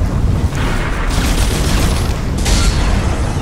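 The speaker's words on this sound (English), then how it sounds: "Screw it. Fire grenades." Fire grenades exploding in Dead Space 2, heard as a dense, sustained roar of blasts and rumble that stays loud throughout, with brighter bursts around the middle and end and no clear gaps.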